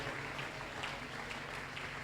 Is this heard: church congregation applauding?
yes